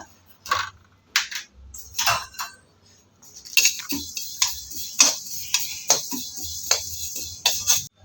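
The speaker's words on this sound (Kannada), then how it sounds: "ಇವಾಗ ಎಳ್ಳನ್ನು ಹಾಕಿ ಹುರ್ಕೊಳ್ಳೋಣ ಸೇಮ್ ಪಾತ್ರೆಗೆ" Sesame seeds roasting in a metal pan give off scattered sharp ticks and light crackling pops, sparse at first, then quicker and more regular as the seeds heat, with faint scraping between pops.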